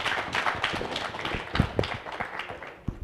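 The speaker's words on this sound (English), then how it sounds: "Huge round of applause, ladies and gentlemen." Applause from a conference audience closing a sustainability summit masterclass, loose scattered clapping with distinct individual claps throughout the short stretch.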